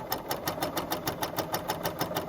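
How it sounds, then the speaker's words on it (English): L890 air threading combo machine running a cover stitch, a steady fast rhythmic whirring and ticking that keeps an even pulse of about five stitches per second, close and moderately loud with no talk. "It just started sewing without any problem."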